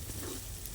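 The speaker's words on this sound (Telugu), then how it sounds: "ఇదిగోండి ఇప్పుడు కొంచెం కరివేపాకు వేసుకోవాలి. ఇలా కలుపుకుంటూ ఉండాలి ఫ్రెండ్స్, ఎందుకంటే అడుగు పట్టేసిద్ది." Curry leaves sizzle in hot oil while being stirred for fish curry, a brief, faint, steady hiss and crackle.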